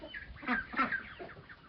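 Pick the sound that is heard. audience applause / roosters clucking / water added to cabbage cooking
roosters clucking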